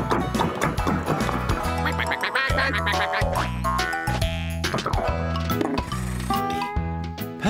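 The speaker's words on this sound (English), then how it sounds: "Next, Tom found the ducks." Cartoonish duck quacks over a bouncy, busy musical score, with playful boings and tinkling accents mixed in.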